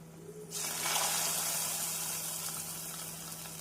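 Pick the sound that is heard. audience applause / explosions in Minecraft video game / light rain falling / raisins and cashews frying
raisins and cashews frying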